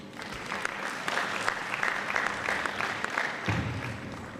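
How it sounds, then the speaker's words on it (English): Audience applause at a climate resilience and energy conference in Freetown, Sierra Leone, steady, moderately loud clapping from a crowd. "A round of applause for all our partners who have made commitments."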